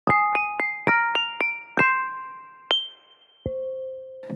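A synthesized water glass sample plays a handful of clear struck pings with bell-like overtones, separate notes rising in sequence, then two longer ringing tones that fade slowly, close and solo.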